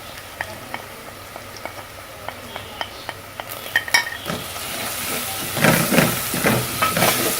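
Spices such as salt, red chilli powder and turmeric being stirred into tinda in a hot pan, a run of light spoon taps giving way to louder scraping and sizzling frying close by, with no one talking.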